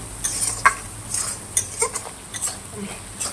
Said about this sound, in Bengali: আমি এবার মশলাটাকে একটু ভালো করে কষিয়ে নেব।